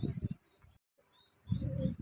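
Domestic pigeons coo softly in short, low bursts at the start and end of the clip while being fed grain, close by in a quiet setting, with a brief silent gap between.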